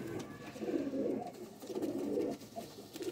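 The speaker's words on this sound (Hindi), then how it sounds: "सच ही तो पुराना कबूतर है आपका मेरे ख्याल से ना?" A Ferozpuri pigeon coos in soft, repeated low bursts, two or three rolling phrases with short pauses between, close but fairly quiet over faint background hiss.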